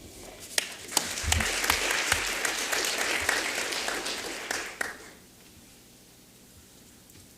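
An audience at a forensic science symposium applauds to welcome Peter Neufeld. The clapping is dense and steady, then fades out around the five-second mark into quiet room tone.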